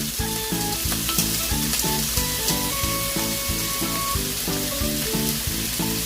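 Onion sizzling as it fries in a pan, a constant crackling hiss with a steady rhythmic stirring pattern running throughout, no talking.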